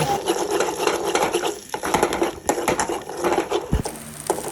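Egg with a pinch of salt is stirred in ghee in a pan, a busy scraping and tapping of utensil against metal in quick irregular strokes, close and fairly loud with no talking.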